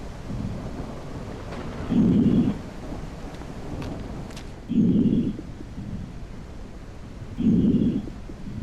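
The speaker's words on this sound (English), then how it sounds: "I know it's raining." Thunder from a storm in the video game Quarantine Zone rumbles in three separate low, heavy bursts, evenly spaced over a constant wash of falling rain.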